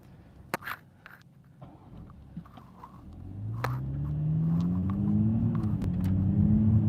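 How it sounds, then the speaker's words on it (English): A car engine starts to drone and builds while driving on a San Diego road, its low rumble rising steadily and growing louder after a few scattered clicks and knocks. "Love how the car sounds."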